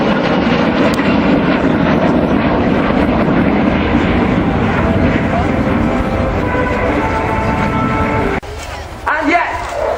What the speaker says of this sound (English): the crew is setting the aircraft with full flaps down, impressively swooping down